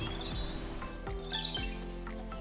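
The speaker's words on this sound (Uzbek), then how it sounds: "Qarang, qushlar ovozi eshitilyapti mana." Birds sing outdoors in a green natural setting, giving several clear chirps and whistled notes close by across a couple of seconds, with no talking.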